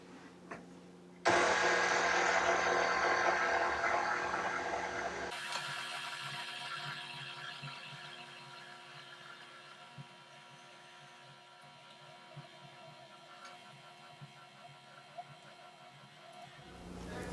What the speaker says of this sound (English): I'm going to knead it on medium. Yes, increase to medium and knead for 6 to 8 minutes.